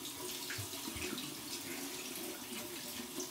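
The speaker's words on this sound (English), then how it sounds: "Gonna run under some cold water here" Cold water runs steadily from a tap into a bathroom sink while someone shaves, a soft, even splashing stream close by with no speech.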